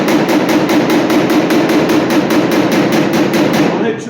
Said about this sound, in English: every pick of this hammer is pushing out